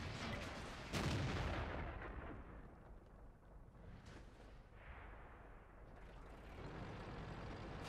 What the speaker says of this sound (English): T-44, I think, fired a shot off as well.